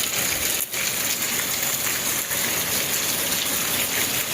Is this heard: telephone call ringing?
no